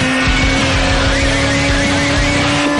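A race car at Indianapolis, its engine roaring loudly and continuously with a steady high tonal whine throughout.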